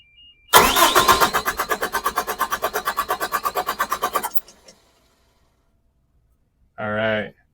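A massive Caterpillar off-highway diesel engine cranks with a fast, even, loud chugging rhythm for several seconds, then cuts off into near silence before a short, brief burst of sound.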